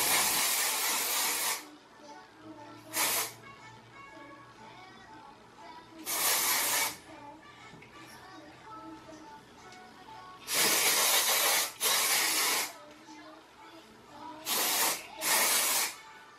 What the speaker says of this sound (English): This is the best hairspray for, like, when you're trying to fresh up your curls.